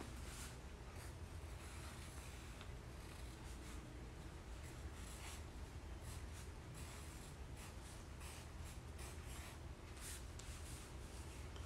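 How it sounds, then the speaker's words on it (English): Pen scratching out a word on paper in steady, close strokes over continuous broadband rubbing noise, with no talking. "I'm gonna write the word right quick and I'm gonna dip."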